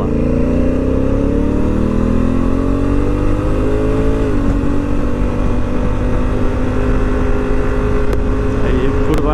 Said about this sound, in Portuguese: Eu vou tentar agora puxar aqui um bocadinho para ela na via rápida.